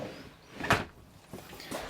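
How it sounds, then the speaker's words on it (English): A quiet washroom sliding door in a Pilote P690D motorhome rolls shut with one soft thud, followed by fainter bumps and rustles in a calm room. "we do have a nice sliding door here for privacy"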